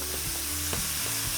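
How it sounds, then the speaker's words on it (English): Ground meat for taco soup sizzles and browns in a hot pan, a steady close crackling fry with a few soft stirring scrapes and no talking. "So we're just gonna let this go for a little bit and get it all nice and browned up."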